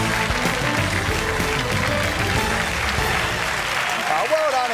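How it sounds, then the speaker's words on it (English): A studio audience at a live Australian television quiz show applauds in a steady, dense wash of clapping that fills the whole stretch, close and fairly loud. "Give yourselves another round of applause"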